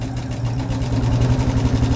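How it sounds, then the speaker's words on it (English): A squeaky sewing machine stitches a quilt block, giving a steady, loud, rapid mechanical chatter with a constant low hum and no voices. "my sewing machine sounds a little squeaky"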